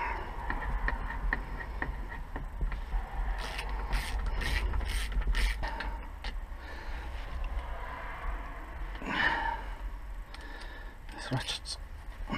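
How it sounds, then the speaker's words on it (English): A ratchet wrench clicks in short bursts while working on the differential of a 2004 Volvo XC90, with repeated pawl ticks and metallic mechanism noise under a steady low hum and occasional talk. "This ratchet's a nightmare sometimes."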